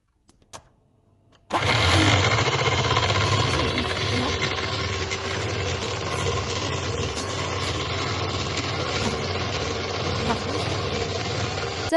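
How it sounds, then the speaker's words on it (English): An electric whisk whips double cream for a Biscoff cheesecake, starting abruptly after a short near-silence and then running as a steady, loud, close motor whir with a rattling beater texture throughout. "then you're going to mix it with our whisking machine"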